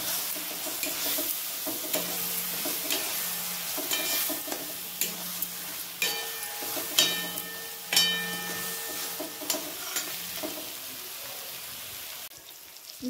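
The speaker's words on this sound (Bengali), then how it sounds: "মশলাটা পেঁয়াজের সঙ্গে 10 মিনিট কষে নেব।" Spice paste with onion and turmeric sautéing in a pan for chicken curry: a soft continuous sizzle, punctuated by repeated scraping and clinking strokes of a spoon stirring against the pan.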